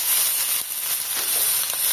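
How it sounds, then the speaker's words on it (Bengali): Masala spices with fresh green chilies fry in a pan in a village kitchen, making a steady, close hiss and sizzle that holds for about two seconds with a brief dip near the middle. "মশলাটা সুন্দরভাবে ভাজে নেই"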